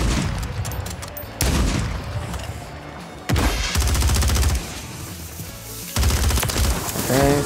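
Gunfire in a controller-played shooter video game during a sniping match: loud sharp shots and bursts in clusters, with brief gaps between volleys and no talk over them.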